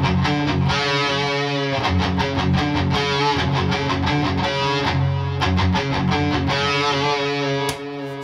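A distorted electric guitar plays a fast palm-muted riff, with tight, chugging rapid picking at a loud, steady level; no voices, and it cuts off shortly before the end.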